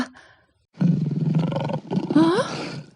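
A lion lets out a loud, close, sustained roar that breaks briefly and then surges again into a rising, growling second roar, after a moment of near silence.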